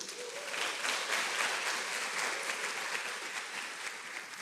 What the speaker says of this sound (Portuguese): eu queria que você aplaudisse o Senhor